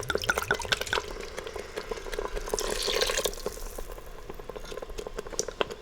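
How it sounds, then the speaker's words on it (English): Merlot red wine poured into a hot pan to deglaze it while braising short ribs, giving a steady bubbling, dripping sizzle that swells briefly and then settles into lighter crackles. "I'm going to add 3/4 cup of red wine. I just have a local Merlot."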